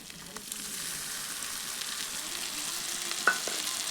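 Cashew, melon seed and poppy seed paste fries with spices in a pan, giving a steady low sizzle with light stirring scrapes and one brief clink near the end, and no talking.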